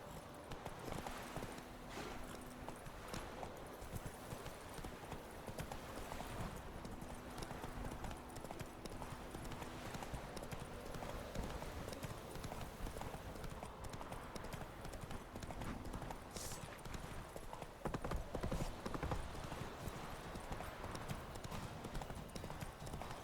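Roach, the horse in The Witcher 3: Wild Hunt, pounds along in a steady rhythm of hoofbeats that carries on throughout, with a brief whinny and some background sounds from the game.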